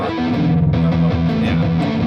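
Electric guitar played through a treble booster pedal set to high boost, giving a bright, slightly distorted riff with repeated picked notes over a steady background hum, loud and continuous.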